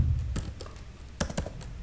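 Scattered keystrokes on a computer keyboard entering a Cisco router command, a few close, distinct clicks with irregular pauses between them and no voices.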